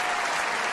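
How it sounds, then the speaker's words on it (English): Applause from a crowd, steady and dense, filling the whole short moment without any voices over it. "Applause."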